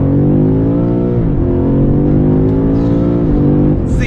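BMW M5 CS with all-wheel drive in ESP Sport mode accelerating hard, its engine roaring loud and close as it climbs through the revs, with brief dips at two gear changes before pulling on.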